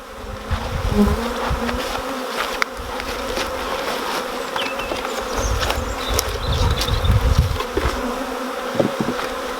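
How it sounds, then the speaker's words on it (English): Dense buzzing of many honeybees, loud and close, during transfer of a nucleus colony into a hive, with agitated swells in pitch and intensity. "As you can see now, a lot of bees. Obviously not happy"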